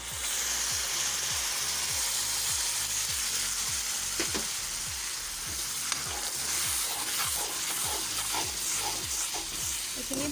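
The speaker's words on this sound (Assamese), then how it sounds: "এতিয়া এইখিনি অলপ সময় ভালদৰে লৰাই ভাজি থাকিব লাগিব" Ground seed paste with spices frying in a pan, a steady loud sizzle with rhythmic scraping strokes as it is stirred, no voices.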